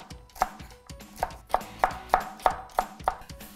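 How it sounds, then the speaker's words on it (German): Knife chopping white cabbage into 1 cm strips on a cutting board, about ten crisp, evenly spaced strokes with soft rustling between them, close up. "Dann schneide ich ca. 1 cm Streifen."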